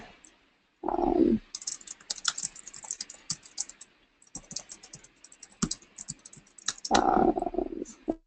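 Quick typing on a computer keyboard, clicking keys in bursts and short runs, close and crisp, while brief low speech-like sounds break in at the start and near the end.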